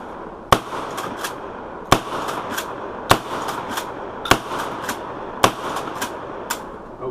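Sharp, loud blasts from a combat shotgun ring out at the range, six evenly spaced reports about a second apart, each followed by quick echoes.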